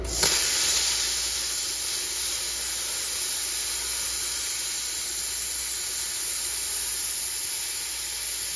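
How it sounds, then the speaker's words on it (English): A plasma cutter slices through steel plate with a sudden start, then a loud, steady hiss and a thin high whine that hold unbroken for about eight seconds. "I'll probably just cut it with the plasma really quick and make it easy"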